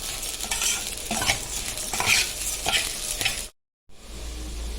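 Rice frying golden in a pan as a beef and zucchini tray dish is prepared, with a close, steady sizzle and repeated spoon stirs, then a brief cut to silence followed by a quieter hiss.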